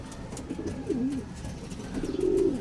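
Soft pigeon coos from an open loft rise and fall a few times over a low background rumble, fairly close, with no voices speaking.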